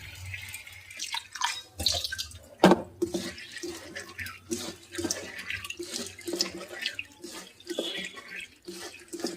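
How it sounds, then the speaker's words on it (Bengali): Food is rinsed under running water in a home kitchen, with splashing, trickling and dripping close by in irregular bursts and a sharp clatter early on, while a voice speaks briefly in the background. "তো এটা আমি লাস্টবার একটু ধুয়ে নিচ্ছি ভালো করে"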